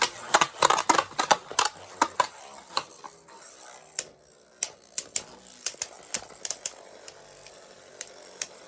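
Beyblade Burst spinning tops, including a Surge Mirage Fafnir F6 and a Takara Tomy version, clattering and clicking as they collide in a stadium, with a dense burst of sharp hits early that thins to sporadic loud ticks.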